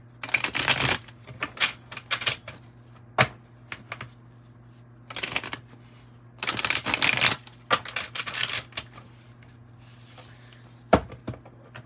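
Tarot cards are shuffled in several quick riffling bursts with short pauses between, close and crisp, with a faint low hum underneath.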